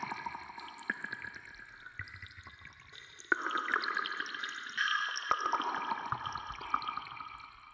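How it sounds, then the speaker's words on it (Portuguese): A synth expander effect in a Portuguese-language remix of a song produces watery dripping and pouring textures, a bubbling liquid-like wash that swells louder midway and continues steadily without any voices. "Esse expand, ele tá fazendo barulhinho de água"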